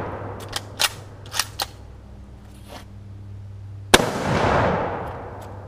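Shot from an M44 Mosin-Nagant bolt-action rifle outdoors: a single sharp, loud blast followed by a long rolling decay, preceded by several fainter distant cracks.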